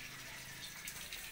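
Water is poured over someone during a bath, a faint, steady splashing gush that lasts briefly with no voices.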